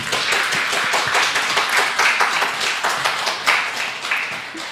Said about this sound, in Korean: 우리 더불어 함께 교회 이찬현 목사님 올라오실 때 큰 박수로 환영해 주시기 바랍니다.